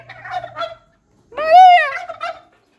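A turkey gobbles loudly and close by among farm animals, a short burst of warbling calls followed by a brief pause and then a longer, strong gobble.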